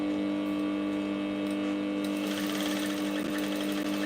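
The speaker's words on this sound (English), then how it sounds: "I need to start stitching from the down part" A sewing machine stitches a top with a puffy-sleeved pattern, humming steadily at first, then speeding into a fast rhythmic needle clatter that runs close and continuous, with no voices.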